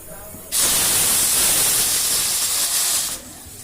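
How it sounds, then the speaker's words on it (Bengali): A pressure cooker boiling potatoes lets out a loud, continuous jet of hissing steam that starts abruptly, holds steady for about three seconds, then cuts off. "এদিকে আলু সেদ্ধ হচ্ছে প্রেশার কুকারে"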